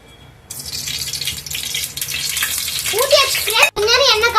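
Oil is poured into a hot pot for a drumstick, potato and mutton kulambu, starting with a faint hum and then a sudden steady hiss and rush of liquid, loud and close with some bubbling toward the end.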